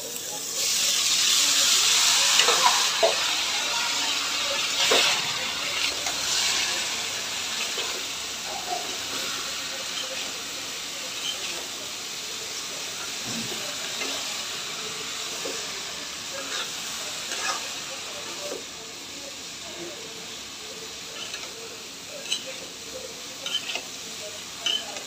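Chopped potato pieces fry in a pan while being stirred, giving a steady hiss and sizzle with scattered scraping clicks, loudest at the start and then settling to an even, moderate level.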